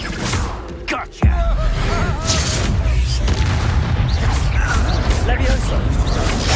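Exploso spell blast in Hogwarts Legacy, a single loud booming explosion erupting suddenly amid combat noise, with a voice speaking around it.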